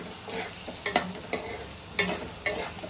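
Drumstick pieces (moringa pods) frying in hot oil in a pan for an egg curry, a steady close sizzle broken by several sharp stirring clatters and pops.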